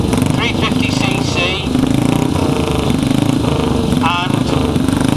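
A Velocette KTT 350cc racing motorcycle at a hillclimb gives a loud, rasping exhaust note, revving and changing pitch as it pulls away, with someone talking over it.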